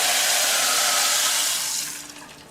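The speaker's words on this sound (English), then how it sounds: "you're going to add the 4 cups of water." Four cups of water pour onto browned noodles and rice in a hot pan, producing a loud, broad sizzling rush that holds steady and then tapers off as it settles.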